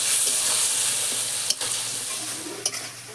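Spice paste of chilli, turmeric and salt sizzles steadily in a hot pan for a Bengali silver carp curry, with a couple of sharp stirring scrapes over the constant frying hiss.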